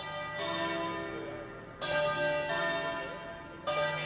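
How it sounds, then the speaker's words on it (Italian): Church bells tolling for a funeral in Anguillara Veneta, Italy, with loud, resonant strikes at uneven intervals, each ringing out and overlapping the decaying hum of the one before; no voices. "Il lutto e il silenzio rotto dal suono delle campane"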